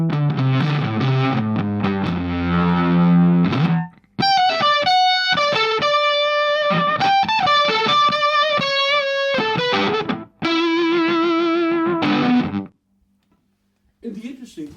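A guitar through a fuzz pedal's octave effect, a thick octave fuzz tone, plays loud distorted riffs and sustained notes, with brief pauses between phrases.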